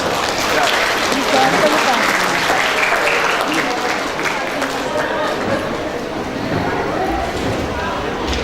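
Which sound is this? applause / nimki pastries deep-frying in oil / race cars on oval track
applause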